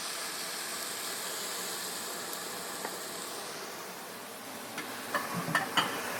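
Diced tomatoes going into a pan of softened, translucent onions give a steady, fairly quiet sizzle, with a few soft clinks and stirring scrapes near the end.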